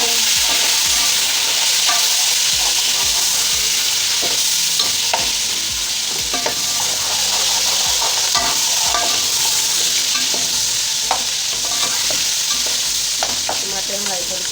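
Green chillies and tomatoes frying in a pan for kabuli chana pulao, a loud, continuous sizzle with scattered scrapes and stirring clatter throughout, no voices.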